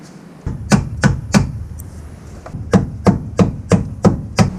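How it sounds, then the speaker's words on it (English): Heavy hammer blows bending a Toyota Tacoma's sheet metal outward near the fender, a quick burst of three followed after a pause by a steady run of about six evenly spaced, ringing whacks. "I'm gonna bend all this stuff outward with a big hammer."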